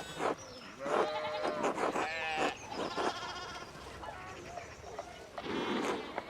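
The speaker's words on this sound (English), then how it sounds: "We need to get these sheep under control." Sheep in a video game from Obsidian Entertainment bleat repeatedly in overlapping calls, close and loud, with several animals crying over each other.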